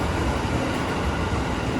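A KRL electric commuter train on the Bogor Line in Jakarta rumbles steadily nearby, a constant low mechanical roar with no voices.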